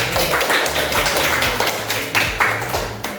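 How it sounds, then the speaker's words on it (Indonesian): Students in a school classroom applaud the groups that have presented. The clapping is close, dense and steady for about three seconds, then tapers off. "kita beri aplaus untuk semua kelompok yang sudah tampil"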